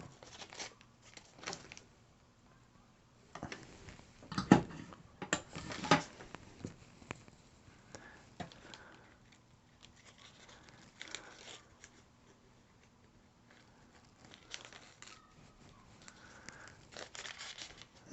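A hot woodworking cutting tool slices through string, producing scattered crackling, tearing bursts and soft ticks that come and go over a quiet background, close and fairly faint.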